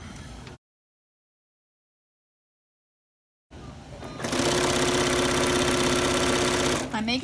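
A sewing machine stitches fabric for a scrunchie after a long silent gap and some low handling noise, then runs in a loud, steady mechanical whir for about two and a half seconds before stopping.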